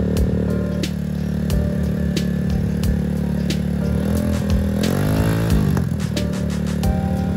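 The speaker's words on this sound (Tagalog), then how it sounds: "Medyo maingay talaga ngayon kasi naka-choke yung motor." Kawasaki W175 motorcycle with a custom exhaust idling on choke during warm-up, a loud, steady engine drone with a rapid thumping beat and a brief rev swelling midway.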